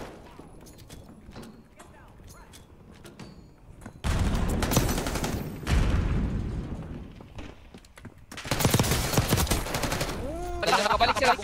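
Video game gunfire erupts in loud bursts of rapid automatic shots and heavy blasts, alternating with quieter stretches, while players talk casually over the action.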